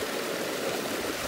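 Steady, close rushing of a forest stream spilling over a tiny waterfall, a continuous broadband splash and gurgle with no voices.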